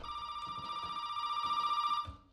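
A phone rings steadily inside a house in Resident Evil 7, one continuous electronic bell tone that holds for about two seconds and then cuts off, with faint thumps underneath.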